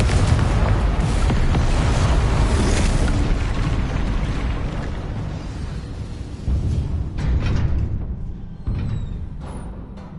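Booming explosive blasts from the Confringo spell in Hogwarts Legacy, a loud rumbling barrage that thins out and gives way to a few separate sharp bursts near the end.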